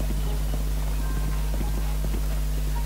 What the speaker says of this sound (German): Da bin ich schneller, wenn ich das Pferd nehme.